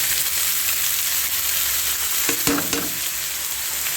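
Bitter gourd (ampalaya) fries in a hot pan with a steady, even sizzle, and a brief stir near the middle briefly stirs up the crackle.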